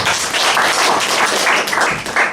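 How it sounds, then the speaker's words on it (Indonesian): Loud, dense applause fills a church service, a steady wash of many hands clapping throughout with no break. "Beri tepuk tangan dulu tuh."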